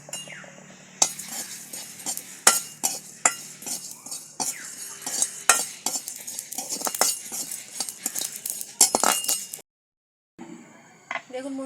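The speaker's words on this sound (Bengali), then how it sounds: "এবার ধনে জিরে একসঙ্গে ভেজে নেব" Coriander and cumin seeds dry roasting together in a pan, with busy clinks and scrapes of a utensil stirring against the metal and a light rattle of seeds, close up, alongside some talking, then a brief pause.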